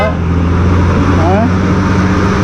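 Steady road rumble and engine drone from vehicles passing and overtaking on a highway en route from Chennai to Ooty, continuous and fairly loud, with a brief horn-like tone partway through.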